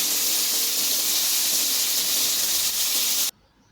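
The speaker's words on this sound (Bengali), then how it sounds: "এভাবে এপিট ওপিট করে আমি শাসলিকগুলো ভেজে নিব।" Chicken shashlik skewers frying on a stovetop pan, sizzling in a steady, loud hiss that runs unbroken for over three seconds, then cuts off abruptly to near silence.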